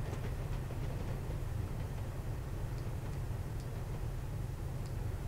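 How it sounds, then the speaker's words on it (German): A freight train in Train Simulator 2016 starts to move with a steady low rumble, while faint rail clicks tick lightly above it. The sound stays even and fairly quiet throughout. "Oh, ich sehe wieder, dass der ganze Zug losfährt."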